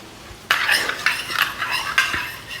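A spoon clinks and scrapes against a bowl or container while coconut milk powder is stirred together with water, several short metallic taps in a steady rhythm, close by and fairly quiet.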